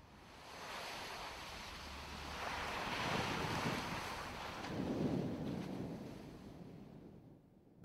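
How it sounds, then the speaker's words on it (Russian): Atlantic Ocean waves rolling onto a long, wild coastline, a broad wash of surf swelling and fading with wind noise buffeting the microphone. "Волны Атлантики бросаются на почти 500-километровую прибрежную полосу"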